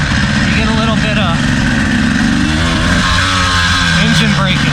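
Dirt bike engine revs and drops in pitch as the rider downshifts without the clutch for engine braking, loud and close, with someone talking over it throughout.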